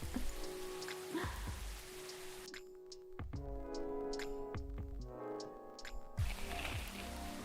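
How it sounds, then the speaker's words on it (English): Soft, steady rainfall patters in the café setting of the video game Coffee Talk, quiet and continuous beneath faint, sustained musical tones. "The rain never stopped."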